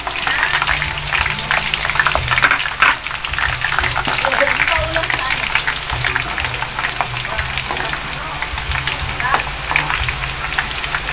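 Garlic fries in a pan with a dense, steady sizzle and crackle that runs unbroken throughout, fairly close and loud, with no voice over it.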